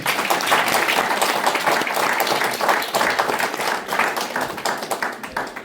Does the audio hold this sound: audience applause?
yes